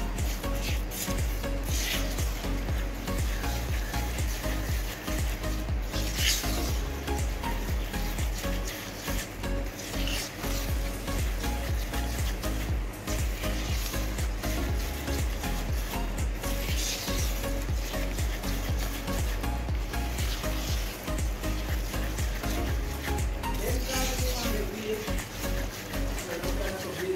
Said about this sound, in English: so now we're going to mix this up